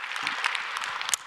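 A congregation claps during a Korean church Sunday worship service. The burst of dense applause is brief, with a few sharper claps standing out before it drops away.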